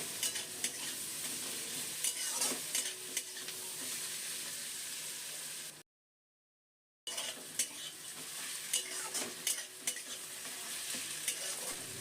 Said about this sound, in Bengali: নুনটা পেঁয়াজের সাথে মিশিয়ে নিই পেঁয়াজটা ভালো করে ভেজে নেবো